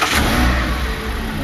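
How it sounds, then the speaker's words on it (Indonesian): A car engine turns over and catches, settling into a steady mid-pitched running rumble up close, with no voices over it. "Tapi begitu dia menyalakan mesin mobil,"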